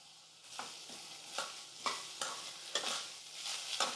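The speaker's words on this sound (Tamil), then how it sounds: "தேங்காய் சேர்த்து கலந்து விட்டுட்டு ஸ்டவ் ஆஃப் பண்ணிடலாம்" Grated coconut being stirred into beetroot poriyal in a pan, a spoon scraping in repeated rhythmic strokes over a faint sizzle, close and moderately quiet with no talking.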